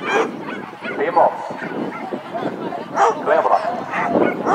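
Dogs bark and yip repeatedly at an agility competition, moderately close, mixed with crowd chatter and people talking.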